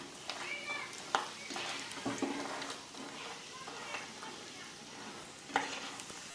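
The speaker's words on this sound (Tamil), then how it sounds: "வேர்க்கடலையும் நல்லா பொரிஞ்சிருச்சு" Oil sizzles and crackles steadily as peanuts deep-fry for kara boondi, with occasional sharper pops and stirring clinks rising over the hiss.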